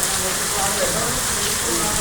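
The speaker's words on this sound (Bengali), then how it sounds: "প্রচুর বৃষ্টি। চলেন আজকে বৃষ্টি ভিজি" Heavy rain pours down in a dense, constant hiss, loud and unbroken throughout without any distinct drops standing out.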